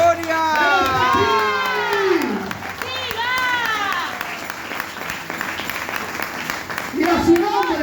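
A church congregation claps and cheers loudly, with excited shouts rising over the applause before it eases, then swells again near the end.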